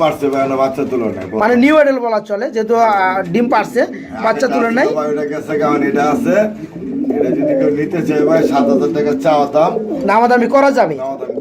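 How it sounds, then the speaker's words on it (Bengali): Pigeons, including a female, coo at a pigeon sale in repeated soft, rolling calls, close by, mixed with people talking. "এটা যে হচ্ছে মাদি কবুতর"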